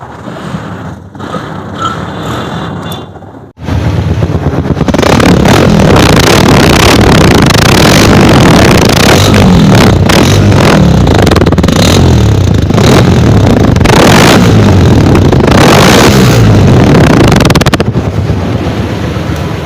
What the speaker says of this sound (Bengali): এই যে ডাবল সাইলেন্সারের যে একটা আওয়াজ এই আওয়াজটা একটু দেখেন